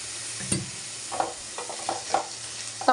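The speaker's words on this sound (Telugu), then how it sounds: "ఆనియన్స్ వేసేసి బాగా కలుపుకోవాలి" Sliced onions with a little salt fry in a pan over a low flame, stirred repeatedly. Scraping strokes of the spoon come every half second or so over a soft, steady sizzle.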